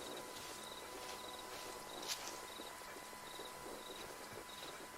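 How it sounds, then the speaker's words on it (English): Crickets chirp in long grass during rain, their pulsing trills repeating steadily over a constant hiss of falling rain, with one brief louder tick partway through. "I think I'm going for a walk through some long grass in the rain with crickets"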